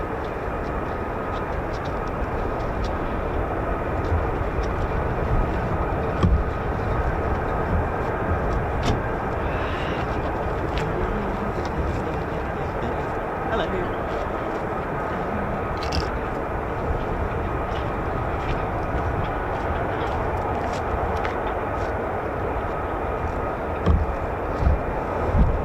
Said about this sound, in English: F-35s on their way. Taxiing now.